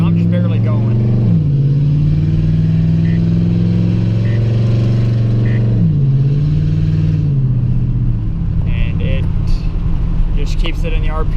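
A cammed Chevrolet Silverado truck with an automatic transmission cruises with a loud, lumpy engine drone, and the pitch drops twice as it shifts. A person talks over the steady engine noise.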